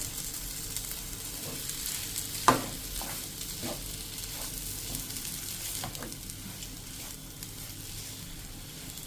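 Potato masala sizzles steadily in a pan as coriander leaves go in, a soft continuous frying hiss broken by a few light stirring clinks and scrapes, one sharper knock standing out early, with no voices.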